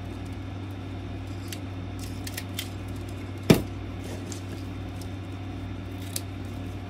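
A single crisp snip of scissors trimming the end of a braid, close and brief, set against a steady low hum in an otherwise quiet room.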